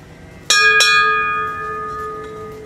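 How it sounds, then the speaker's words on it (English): A big old ship's bell aboard a boat is struck twice in quick succession, each clang leaving a long, bright metallic ring that slowly fades. "Love this big old ship's bell."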